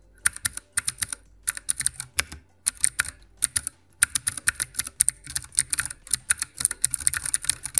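Clicky mechanical switches on a Ducky One 2 Mini 60% keyboard with PBT double-shot keycaps, typed in quick, uneven bursts of sharp, close clicks with brief pauses between runs.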